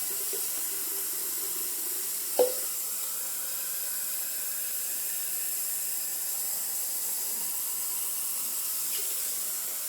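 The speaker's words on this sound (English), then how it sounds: "The water's running. That's the noise you can hear." Steady broadband hiss of bathtub tap water pouring continuously, with one brief clunk early on and no voices.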